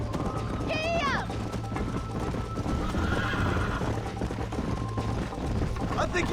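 A horse in the video game Red Dead Redemption lets out a loud, wavering neigh early on, then keeps galloping with steady clip-clopping hooves; a second whinny surfaces near the end, with talk mixed in.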